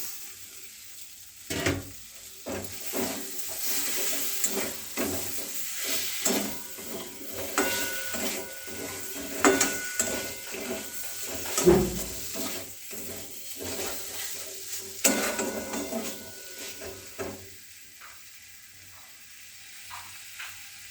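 Fried pointed gourd is stirred into a cooked spice masala in a pan: a sizzling bed under repeated spoon scrapes and knocks in an uneven rhythm, close and moderately loud.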